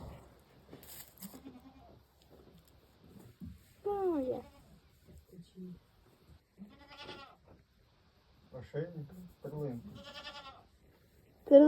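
A dairy goat being given vitamin and calcium injections bleats several times in wavering, nasal cries spread across a quiet stretch, with occasional soft sounds between calls.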